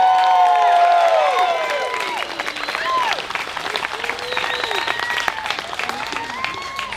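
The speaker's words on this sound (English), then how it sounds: "So please give them a big Californian round of applause." Wedding guests break into a big round of applause mixed with cheers and whoops, loud and sustained across the room, with excited voices rising over the clapping.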